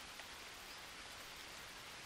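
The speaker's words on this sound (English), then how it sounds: "Well, when it stops raining anyway." Steady rain falls in the Green Hell survival game, a soft, even hiss of rain on foliage that stays constant and fairly faint throughout, with no talking.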